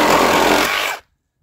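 A Milwaukee 2821-20 cordless reciprocating saw fitted with a carbide-toothed blade cuts through wood in one loud, steady buzzing pass lasting about a second, then stops abruptly, leaving near silence.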